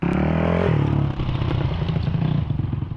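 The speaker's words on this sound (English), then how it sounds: "I like to ride dirt bikes" A dirt bike engine rumbles loudly at close range, with a heavy revving burst that drops to a rough, uneven idle with clattering mechanical noise and no voices.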